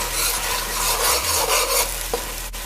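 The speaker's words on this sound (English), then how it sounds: "We're gonna just let this saute for 3 minutes" Lamb pepper pot ingredients sautéing in a pot, with a steady loud sizzle and bursts of stirring scrapes throughout; no voices.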